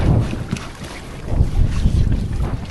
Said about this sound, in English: Slightly stronger breeze now, so see how she tacks.